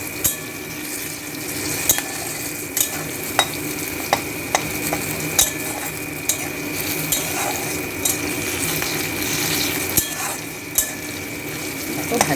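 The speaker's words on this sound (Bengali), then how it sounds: "দেখো এই যে পেঁয়াজটা আমার প্রায় লাল হয়ে ভাজা হয়ে এসেছে" Onions sizzle steadily in a hot pan while a spatula scrapes and taps the metal at regular intervals, a close, continuous frying hiss broken by sharp stirring clicks.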